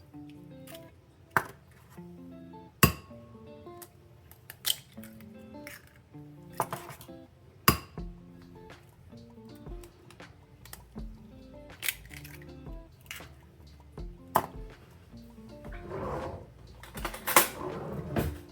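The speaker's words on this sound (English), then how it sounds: "I'm going to crack 3 eggs into this bowl." Three eggs cracked into a bowl in a kitchen, a series of sharp, close taps and light clinks spread unevenly over a quiet background, with a busier cluster of clatter near the end.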